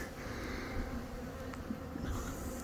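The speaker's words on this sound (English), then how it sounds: "bees are bringing in a lot of pollen this afternoon" Honeybees swarm around a community feeder in the afternoon, a continuous close, dense buzzing without pause, with no voices.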